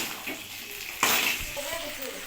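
Cluster beans sauté in oil in a covered pan, giving a soft sizzle and wet bubbling with a louder hiss surge about midway that then settles back to a low frying sound.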